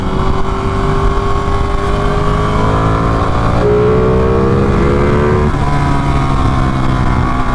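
A loud early-2000s Honda CBR F3 sport motorcycle engine roars close by, revving up through rising pitch, dropping, then climbing again, with no talking.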